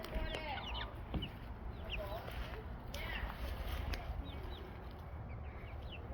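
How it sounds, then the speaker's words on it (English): Young chicks and chickens outside a backyard coop cluck and cheep in scattered bursts, fairly faint against a steady outdoor background hiss. "we just took all the little baby chicks out"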